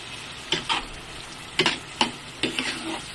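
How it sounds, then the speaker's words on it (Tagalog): Beef sautéing in a pan for a creamy beef and mushroom dish, heard as a few short bursts of sizzling and stirring scrapes, close and moderately loud, with quiet gaps between them. "Sasatay lang natin yan."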